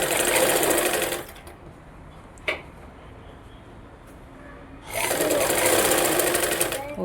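A sewing machine stitches blouse lining in two bursts of fast, steady whirring, loud and close, with a quiet pause between them broken by a single click.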